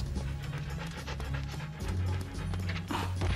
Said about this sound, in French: Il ne manquait plus que le chien.